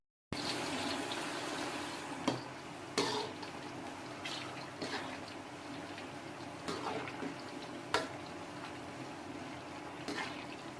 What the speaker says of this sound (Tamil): இப்போ சிப்ஸ் நல்லா பொரிஞ்சிடுது. உங்களுக்கே தெரியுது, சவுண்டு கேட்கும் பாருங்கள்.